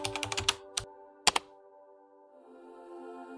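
A quick burst of clicky keystrokes on a computer keyboard, a few more isolated taps after a pause, then quiet with a faint electronic tone, close and crisp.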